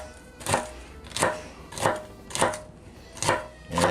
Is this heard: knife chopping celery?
yes